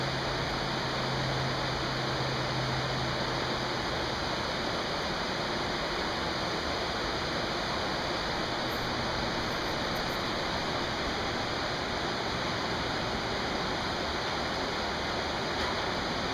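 Steady, dense rush of water outdoors, a loud broadband roar like a stream or small waterfall, continuous and unchanging throughout with no voices over it.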